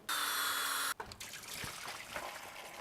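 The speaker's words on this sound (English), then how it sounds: "I'm just gonna pull the lower radiator hose because if I remember, it's gonna hold just a little bit of antifreeze in it" Antifreeze pours from a pulled lower radiator hose on a Nissan Titan engine, a loud steady gush for about a second that then gives way to softer dribbling and splashes.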